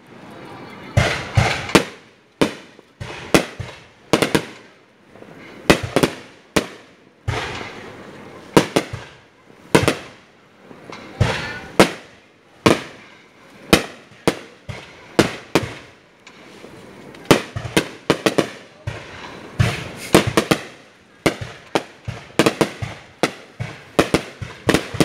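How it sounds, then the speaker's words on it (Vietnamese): Fireworks are set off at a flower festival in Dien Bien, a long run of loud, sharp bangs and crackling bursts coming in irregular clusters with brief gaps between them, sometimes several in quick succession. "bắn pháo hoa."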